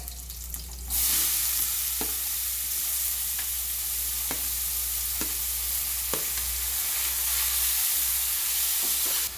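Onions and green chilies with cumin hit hot oil in a pan, a sudden loud burst of sizzling that settles into a steady bright hiss, punctuated by regular spoon clicks against the pan, close and without talk.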